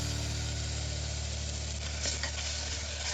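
Tomatoes and green chillies sizzle in a hot pan while being stirred, a steady close frying hiss with a couple of brief scraping stirs and no talking.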